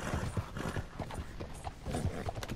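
Horse hooves clip-clopping in Red Dead Redemption 2, a steady run of close, repeated hoof strikes over a continuous background bed with no talking.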